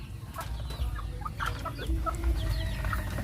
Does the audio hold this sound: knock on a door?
no